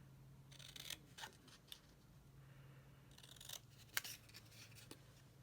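Scissors snip paper for a Stampin' Up Christmas card in faint, quiet cuts, a few separate snips spread out over a low background hum.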